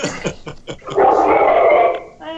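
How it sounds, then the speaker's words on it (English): An indoor dog gives several short, sharp barks, then a sustained loud howling whine, ending in a brief higher yelp. "I think I got headphones, and that set my dog off."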